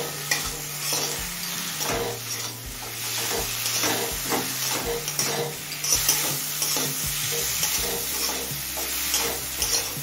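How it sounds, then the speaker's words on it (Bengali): Kochur loti, taro stolons, stir-fried in oily spice paste over high heat, a close steady sizzle broken by frequent rhythmic spatula scrapes and stirs against the pan. "এবার এই লতিটা মশলার সাথে কিছুক্ষণ কষিয়ে নেব।"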